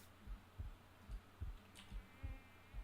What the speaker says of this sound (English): When my health is low, you can hear the heartbeat.